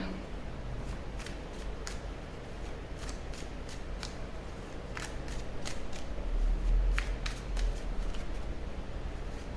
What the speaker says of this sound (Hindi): मैं नहीं ले रही हूँ कार्ड, दोबारा से शफल करेंगे।